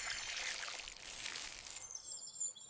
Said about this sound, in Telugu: ముగ్గురూ కలిసి గాజర్కు నీళ్లు పోశారు